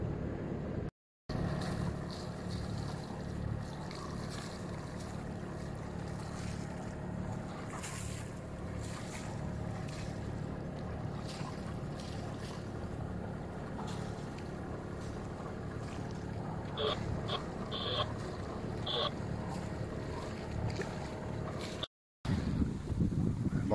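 A sailboat under sail in a light breeze off the coast near Nice and the Îles de Lérins, with steady wind and water wash against the hull continuing throughout, plus a few faint creaks and clinks from the rigging.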